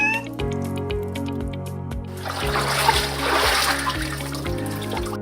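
Water runs and splashes steadily from a household faucet into a sink, a broad continuous hiss and spatter heard alongside steady, pulsing background music.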